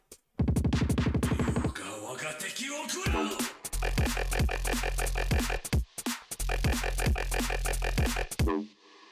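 Heavy synthesized yomp bass stabs from Serum pulse in a rhythmic pattern, deep wobbling tones with sharp attacks, loud and alone.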